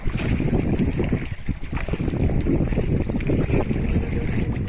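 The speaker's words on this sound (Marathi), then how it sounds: "तो बघा कशी होडी चालवतात बघा एकदम फास्ट मध्ये." A boat is rowed fast on cold water in a Konkan village near Rajapur. Continuous churning water and splashing mix with strong wind buffeting the microphone throughout.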